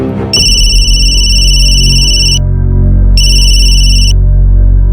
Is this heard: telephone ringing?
yes